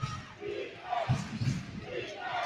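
A basketball crowd at a college game between Voorhees College and Clinton College roars and shouts in a rising, swelling wave of mixed yelling voices, moderately loud and reverberant in the gym.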